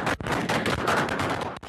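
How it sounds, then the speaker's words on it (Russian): Gunfire during the shelling of the presidential palace in Ankara, caught on city surveillance cameras: a dense, steady rattle of shots with two sharp breaks, loud and continuous, with no voices. "На съемках с городских камер наблюдения обстрел президентского дворца в Анкаре."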